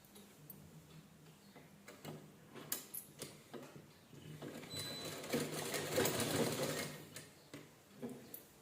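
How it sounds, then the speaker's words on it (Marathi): Domestic sewing machine stitching a fabric pillow cover with a red inner strip, running in bursts of rapid mechanical ticking that swell to a steady close whir in the middle before slowing to short stops. "शिलाई करून घेऊया आपण"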